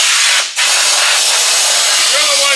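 A steady, loud hiss of a paint spray gun spraying a car, with a brief pause early on before the spray resumes.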